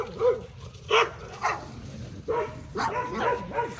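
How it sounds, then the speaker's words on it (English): Dogs bark outdoors in a few sharp, separate yaps and woofs spread across a few seconds, moderately close, with short gaps between them. "Forget about those dogs."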